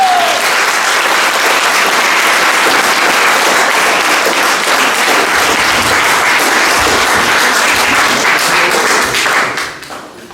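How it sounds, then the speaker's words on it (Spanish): A church congregation claps loudly during a Spanish-language sermon, a dense, steady wall of applause that fills the room for about ten seconds before tapering off at the end. "Démosle palmas a la palabra."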